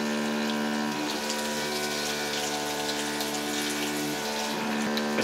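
A steady whirring fan inside a smokeless indoor electric grill, running continuously with a constant tonal hum and broad airy hiss, fairly quiet and with no talking.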